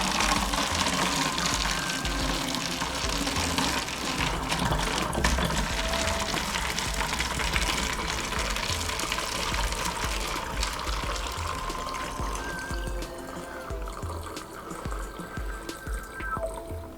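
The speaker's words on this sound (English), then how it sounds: "And I'm just gonna carefully pour this in." Blix film-developing chemical from a C-41 press kit is poured through a funnel into a bottle, giving a continuous close trickling and gurgling of liquid that thins toward the end into lighter drips.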